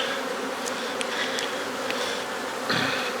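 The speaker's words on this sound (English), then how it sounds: "That's a lot of bees." Dense, steady hum of honey bees swarming around an opened hive during an inspection, close and continuous with brief brighter buzzes as individual bees pass near.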